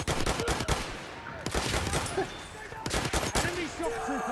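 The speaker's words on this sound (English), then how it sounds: "I shot the dude in the head about 4 times" Rapid bursts of gunfire from a shooter video game, several loud volleys of shots spread across the moment with a busy game soundscape behind them and no voices over the shooting.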